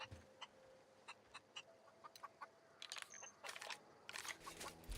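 A chicken in the video game The Outer Worlds gives short, scattered clucks over a quiet hum, with sharper game effects and a brief chime bunching up toward the end.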